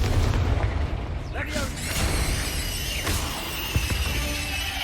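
A Confringo spell in Hogwarts Legacy sets off booming blasts with crackling, shattering debris and magical whooshes, loud and close among other game effects, while a voice speaks over it.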